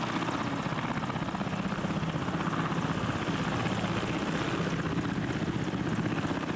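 An army helicopter hovers low over a city, its steady rotor thump and turbine whine holding loud and constant throughout with no voices.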